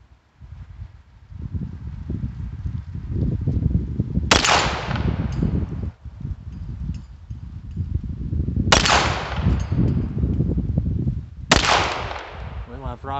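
A Beretta Neos .22 pistol fires three sharp shots at spaced intervals, fired toward a 25-yard target from a rapid shooting rest, each crack cutting over steady wind noise outdoors.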